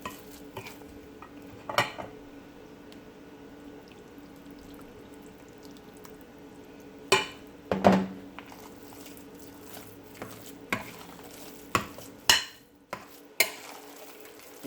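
A spoon stirs a thick sweet potato pudding mixture in a pot, with soft squishing and scattered sharp clinks and scrapes against the sides at irregular intervals, close up and otherwise quiet.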